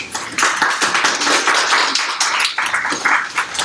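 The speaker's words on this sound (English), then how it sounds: "Let's just welcome her with a warm applause, please." Warm applause from an audience welcoming a speaker at a talk on teaching English in Panama, a moderate crowd clapping unevenly with distinct individual claps, fairly close.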